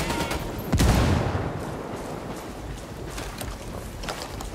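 A frag grenade blast in Ghost Recon Wildlands lands as a loud, booming explosion with a long rumbling tail, followed by scattered gunfire cracks, with no talk over it.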